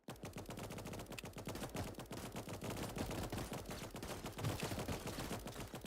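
Sniper units firing in a video game produce rapid, dense volleys of gunshots, sharp repeated cracks layered almost continuously, steady and loud throughout with no talk over them.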